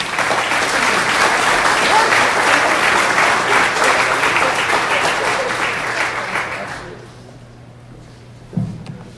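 An audience at a 2019 annual meeting gives the governor a loud round of applause. The dense clapping holds steady for about seven seconds, then fades to near quiet, broken by a single soft thump.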